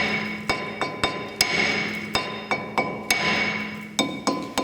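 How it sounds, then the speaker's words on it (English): Hammer tapping a rusted front brake disc to free it from the hub on a Dodge, about a dozen sharp metallic knocks in an uneven rhythm with a faint ringing between strikes, close and alone. "So we're going to grab a hammer and give this a light tap to convince it to come off."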